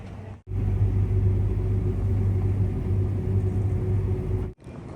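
A car engine rumbles at a low, steady idle, close and continuous for around four seconds, with brief dropouts at the start and end and no voices.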